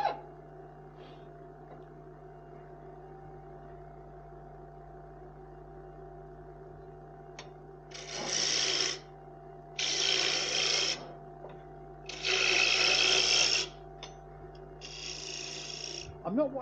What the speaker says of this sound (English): Now we go to the bowl gouge.